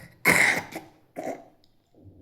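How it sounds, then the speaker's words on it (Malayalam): Two harsh coughs from a child with a long-lasting cough, the first strong and raspy, the second shorter and weaker, followed by quiet breathing. "ഇതിനൊരു അവസാനമില്ലേ ഈ ചുമയ്ക്ക്"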